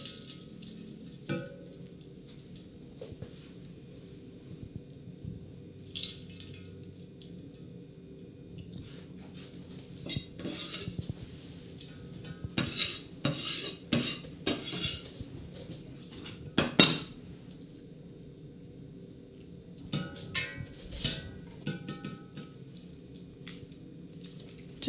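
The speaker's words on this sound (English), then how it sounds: "Just give it a little bit of stir to make sure it keeps melting on the bottom." White chocolate melting in a metal bowl is stirred with a utensil, producing intermittent clinks and scrapes against the metal, clustered in short bursts over a quiet low hum.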